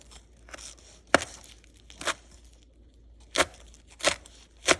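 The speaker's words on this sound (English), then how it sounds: "Here's the cilantro leaves and the cilantro. Just chop it like this." A knife chops fresh cilantro leaves on a board in a series of sharp, separate, close taps, irregularly spaced, with quiet gaps between strokes.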